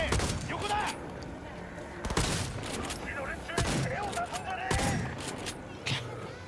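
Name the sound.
shotgun gunfire in Cyberpunk 2077 video game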